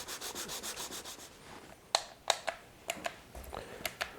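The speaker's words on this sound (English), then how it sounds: "To get that out, I've got to sand deeper." Rhythmic rasping strokes of sanding on an old wooden sled, then a series of sharper scraping and knocking sounds spaced irregularly, close by.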